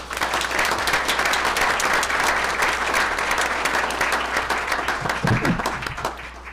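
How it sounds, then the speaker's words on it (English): A school board meeting audience gives award recipients a big round of applause, dense continuous clapping that stays loud and even before tapering slightly at the end. "So give them a big round of applause."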